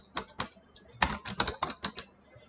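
Close, crisp clacks of keys struck on a computer keyboard, arriving in a quick uneven cluster of about a dozen taps over a couple of seconds, heard alone.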